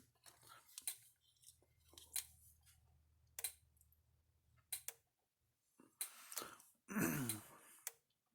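A Stafix X6 electric fence charger under repair, powered from a 13 volt supply, gives off sharp irregular clicks over a faint low hum, with a burst of louder rattling near the end.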